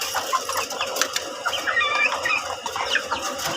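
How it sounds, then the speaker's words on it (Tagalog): Gamefowl chickens in a game yard cluck and squawk in short, irregular bursts close by, several birds calling over one another with no talk. "Mga manok ko dito."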